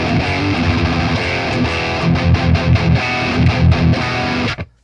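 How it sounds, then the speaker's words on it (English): Heavily distorted electric guitar chugging in tight, gated bursts, with a hard cutoff of sound between hits before it stops abruptly. "Let's go more aggressive with the gate and distortion."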